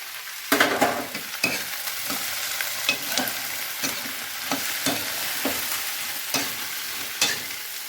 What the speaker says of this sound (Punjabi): ਤੇਲ ਨੂੰ ਗਰਮ ਹੋਣ ਤੋਂ ਬਾਅਦ ਵਿੱਚ ਮੈਂ ਜਿਹੜਾ ਵੀ ਆਪਾਂ ਸੀਤੀ ਸਬਜ਼ੀ ਚੀਰੀ ਸੀਗੀ ਸਾਰੀ ਦੇ ਵਿੱਚ ਪਾ ਦਿੱਤੀ ਹੈ